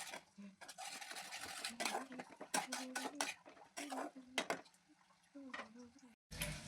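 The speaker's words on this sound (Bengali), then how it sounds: "মশলাটাকে ভালোভাবে কষিয়ে নিতে হবে।" Spoon scrapes and clinks against a pan as spice paste with chili powder is stirred and sautéed for chili chops, with irregular close clatter and soft sizzling, and a voice is faintly present in places.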